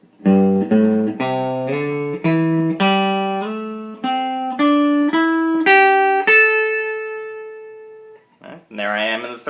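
A pentatonic lick of plucked guitar notes climbing upward, some notes sliding into each other, ending on a long sustained ringing note before a brief strum.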